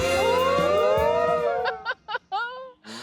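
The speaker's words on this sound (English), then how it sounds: "Was that a cow?" A cow lows in a long, loud, sweeping moo that rises and falls in pitch, followed by a few shorter broken calls, all close and clear with nothing else audible.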